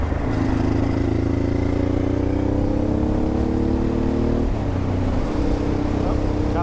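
A V-twin motorcycle engine pulls hard under acceleration on a dual-sport bike fitted with 50/50 tyres, a steady loud droning roar with rising harmonics and a brief shift dip partway through.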